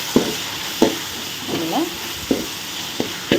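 Chopped tomatoes and small onions sautéing in a pan for a pea kurma, a steady sizzle broken by about six sharp spoon scrapes and stirring knocks, close and moderately loud, with no talking.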